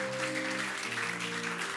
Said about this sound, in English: Can you give a very big jam of clap for Jesus?